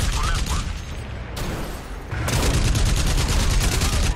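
Rapid gunfire crackles in dense bursts during a vehicle-driving sequence in the first-person shooter game Crysis Remastered, loud and continuous with a short lull midway.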